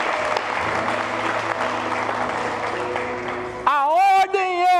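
Church congregation applauding during a sermon, a dense burst of clapping that cuts off abruptly into a loud, close sustained voice.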